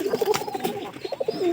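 Pigeons coo nearby in a loft where young birds are feeding, giving soft repeated low warbling coos in short bursts, with no talk over them.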